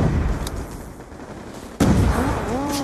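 Gunfire in Black Ops 2 multiplayer booms out loud and close, with a sharp shot near the middle over steady battle noise.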